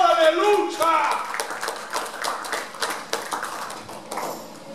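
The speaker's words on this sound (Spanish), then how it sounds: "Dale un aplauso fuerte al Señor" A church congregation applauding, scattered claps and taps under a preacher's continuing speech.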